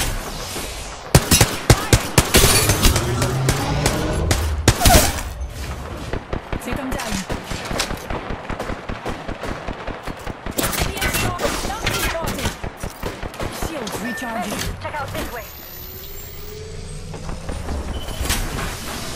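Rapid gunfire bursts and single shots from a squad-based shooter video game, dense and loud throughout with brief pauses, mixed with other game effects.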